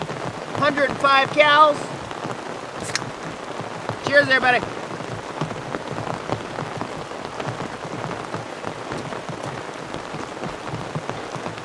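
Heavy rain drums steadily on a camping tarp during a storm on a canoe trip along a wild river, a dense constant patter running the whole time, with someone talking briefly near the start.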